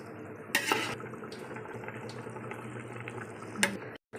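Water is poured into a biryani pot during mutton biryani cooking, a soft continuous splash under faint kitchen clinks of utensils.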